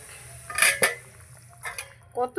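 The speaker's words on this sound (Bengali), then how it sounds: "ঢাকাটা তুলে নেব।" A metal lid comes off a cooking pot of katla fish curry with winter vegetables. Two close, bright clanks are followed by softer metallic clinks, with a faint simmer underneath.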